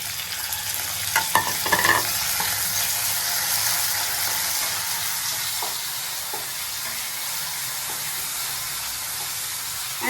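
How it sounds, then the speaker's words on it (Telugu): Chopped tomatoes hit hot oil in a pan for a methi matar malai curry, sizzling steadily with a few scraping stirs near the start, close and loud. "సో దీంట్లోకి నేను ఇప్పుడు యాడ్ చేసుకుంటున్నాను మన కట్ చేసుకున్న టొమాటోస్"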